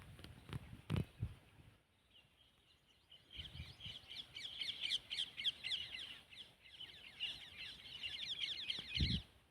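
A bird, locally called chamdi, calls in a cotton field: faint, rapid chattering and chirping runs that come in bursts and sit over soft outdoor rustling and a few low thumps.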